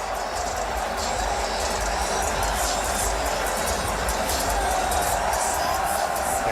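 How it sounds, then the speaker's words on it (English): A packed stadium crowd at Percival Molson Stadium during a Friday night CFL football opener rolls a wave around the stands, producing a sustained, loud roar of cheering and hubbub that swells slightly without letting up. "a very successful wave is taking place here with the crowd at Percival Molson Stadium"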